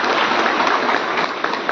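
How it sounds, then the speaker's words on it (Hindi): A crowd claps steadily and densely throughout a public Disha meeting with officials in Kuchaman, a dense, even wash of applause with no pauses. "ताली बजाकर MP साहब की सोच का स्वागत कीजिए।"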